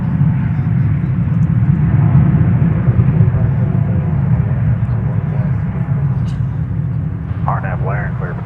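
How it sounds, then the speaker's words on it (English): Airbus A321 jet taking off at DFW Airport, a loud, sustained engine roar with heavy low rumble that stays strong the whole time, heard from fairly close. "here's the flight to Denver, 1832, an Airbus A321, finally going in the right direction"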